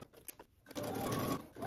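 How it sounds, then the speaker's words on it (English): A sewing machine stitches down a garment collar at a 5/8-inch seam allowance. It starts after a quiet moment and then runs as a steady, close, continuous whir to the end. "now you're just going to go ahead and stitch down your collar using 5/8 of an inch seam allowance"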